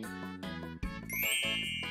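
A notification bell sound effect rings out as two bright ding chimes, a clear ringing tone that sustains and shimmers over a soft background.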